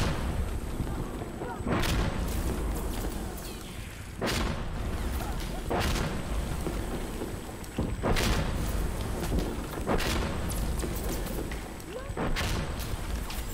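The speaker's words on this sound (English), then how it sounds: "Here comes the mortars." Mortar shells explode one after another in the Insurgency video game, heavy booms at roughly two-second intervals over a constant rumbling battle ambience, with voices mixed in.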